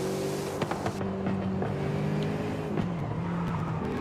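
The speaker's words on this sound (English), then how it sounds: "you can hear the turbo. The engine is much more muffled compared to the non-718." Muffled turbocharged Porsche 718 engine in Forza Horizon 5, a steady low drone with shifting pitch and brief rev changes, heard alone without talk.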